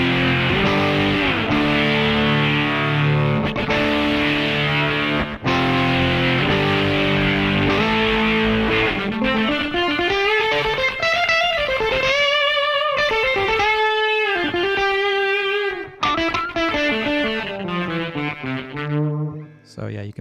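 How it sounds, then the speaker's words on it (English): A Fender electric guitar blended with a MIDI lead guitar sound plays loud sustained chords and then a bending, vibrato-laden melodic lead line, thick and processed, continuous for about twenty seconds. "This again with a Fender and the lead guitar MIDI sound blended together."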